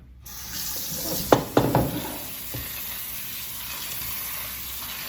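Tap water runs into a pot of white beans, a steady rushing stream after a couple of sharp knocks and splashes as the pot shifts, close by with no talking.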